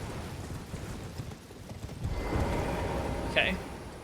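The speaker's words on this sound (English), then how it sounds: "We're gonna get on our horse." Horse hooves clip-clop steadily in a video game as a rider mounts up, with a brief sharp whinny-like cry near the end, all under continuous talk.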